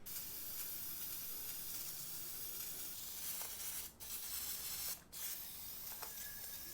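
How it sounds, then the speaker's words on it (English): Spray cleaner is blasted into a Jeep TJ Dana 30 axle carrier, making a steady, close hiss that runs unbroken, with two brief pauses near the end. "Then I'm gonna spray down my carrier there to make sure that there's no debris or dust or sand or any kind of grit or anything in there"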